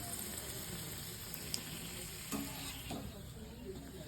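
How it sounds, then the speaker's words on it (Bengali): Peas kachori fry in a home kitchen with a soft, continuous sizzle of hot oil, faint and steady, with a couple of light clinks from the pan partway through. "এখানে ভাজা চলছে আর এই কটা বাকি আছে, ভাজা হলে হয়ে যাবে।"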